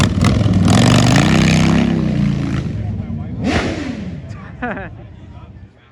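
A Jaguar XR-type car engine revs hard on Mulholland Highway, a loud sustained roar that rises and falls, then a sharp swelling pass and fading whine, with excited voices talking over it.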